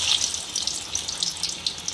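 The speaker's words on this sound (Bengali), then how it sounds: "আরেক ব্যাচ এখন ভাজতে বসিয়ে দেবো" A fresh batch of balls dropped into hot oil gives a bright, crackling sizzle with bubbling, hissing texture, steady and close for two seconds, rising in a burst at the end, no voices.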